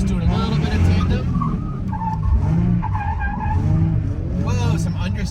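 A drift car on a slick track, understeering with tires skidding, gives a loud, close roar of engine and sliding rubber throughout, while someone talks over it.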